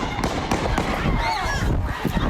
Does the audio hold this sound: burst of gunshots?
yes